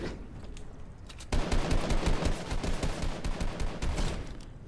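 Rapid bursts of Fortnite gunfire rattle loudly after a quieter start, sustained and dense through the rest of the stretch, with no voices.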